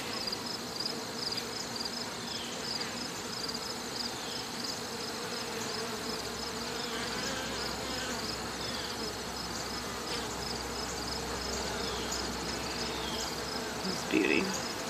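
Honeybees crowding a hive entrance on the last day of summer while bringing in pollen, a dense continuous buzzing hum from many insects close by, steady throughout with a brief louder pass near the end.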